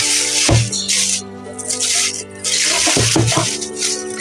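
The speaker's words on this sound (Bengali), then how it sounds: "মাছটাকে এবার ধুতে হবে।" A fish is rinsed under a running kitchen tap, the water hissing loudly in bursts and breaking off briefly as the fish is turned and splashed by hand.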